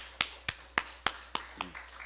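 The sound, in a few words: applause, clapping for God in church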